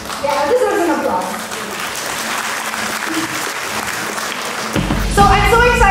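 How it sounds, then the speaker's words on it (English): A crowd of students applauds at an HIV advocacy campus tour, a dense, steady wash of clapping lasting several seconds, with voices and cheering over it at the start and end. "this was an applause"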